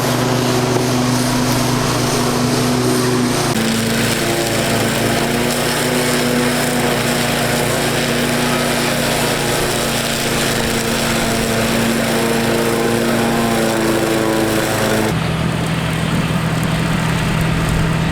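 A tractor mows on a homestead, its engine droning loudly and continuously with a steady hum that shifts in pitch a couple of times as the load changes.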